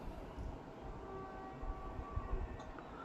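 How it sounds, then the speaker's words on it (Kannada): A goods train hauled by a WAG-7 electric locomotive approaches a station near Krishnarajapuram, a low rumbling roll with steady mechanical drone and faint tonal hums, moderately distant and without talk. "ಯಾವುದೋ ಟ್ರೈನ್ ಬರ್ತಿದೆ, ಮೇ ಬಿ ಗೂಡ್ಸ್ ಅನಿಸುತ್ತೆ."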